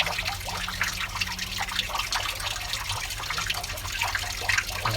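Water poured into the bottom of a seed tray in a greenhouse, filling it about a quarter inch deep; a steady close trickle and splash runs for the whole stretch under a low background hum.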